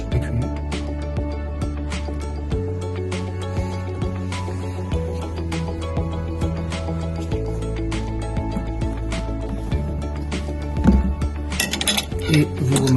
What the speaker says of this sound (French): Et vous remélangez jusqu'à réobtenir une pâte homogène.